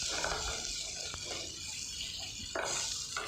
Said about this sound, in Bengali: এবার একটু জল ঢেলে দিলাম